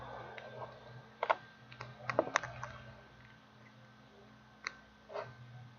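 Computer keyboard keys pressed in a few short, sharp clusters of clicks separated by pauses, close and fairly quiet, over a low steady hum, with no talk.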